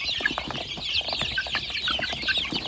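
A flock of nearly 200 free-range village chickens clucks close by during feeding, with many short, overlapping clucks and chirps in a busy, continuous chatter.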